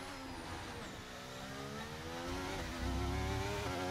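Revving race car engine from the F1 23 video game at Portimao, a steady rising and falling harmonic whine that swells louder toward the end, heard alone without talk.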